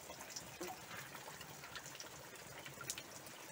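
Heavy rain pours near a garden gate and a veranda with a leaking roof, a faint but continuous wash of water with runoff gushing and occasional sharper drips standing out, no talking.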